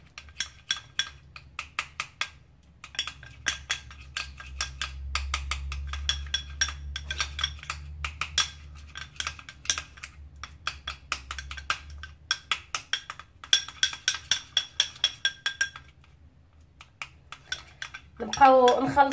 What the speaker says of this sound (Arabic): نبقاو نخلطو باش هذيك الفازلين تمعس لينا مع الياغورت ومع المايزينا